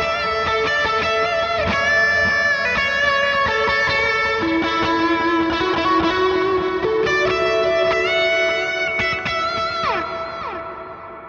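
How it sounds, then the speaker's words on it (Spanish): Electric guitar played through a NUX MG30 multi-effects preset with overdrive, delay and reverb, ringing sustained chords and notes with echoing repeats for several seconds, loud and alone with no talking. "cuando le ponemos delay y reverb va a sonar de esta manera"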